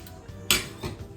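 Chopped fresh ginger tipped into a cooking pot for ginger tea: a sharp metallic clink of utensil on pot, then a softer second knock, close by.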